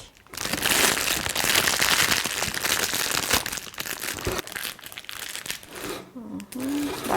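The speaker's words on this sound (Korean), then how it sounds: "겉에 있는 비닐은 바깥으로 해서 접어서 안쪽으로 밀어 넣습니다" A plastic sheet lining a floral foam centrepiece crinkles loudly and close up as it is folded outward and pushed inside, crackling almost continuously before easing into softer rustles.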